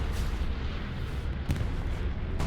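Bombing run explosions in the video game Hell Let Loose, a continuous low rumble punctuated by a couple of sharp distant blasts, one sharper crack near the middle and another at the end.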